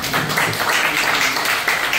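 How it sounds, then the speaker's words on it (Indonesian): An audience claps warmly at a talk by a long-running culinary business owner, a dense, steady burst of applause lasting about two seconds with no voices over it. "boleh kasih tepuk tangan buat mama saya"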